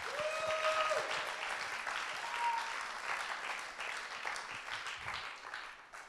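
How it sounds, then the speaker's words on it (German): An audience claps enthusiastically in a sustained burst of applause, with a couple of brief whistles early on, gradually tapering at the end. "geben wir ihnen doch einen riesen Applaus"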